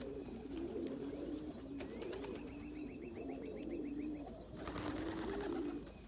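Wild pigeons coo in a repeated low rolling pattern through a snowy outdoor scene, with faint chirps from smaller birds scattered above; the cooing stays steady and fairly close throughout.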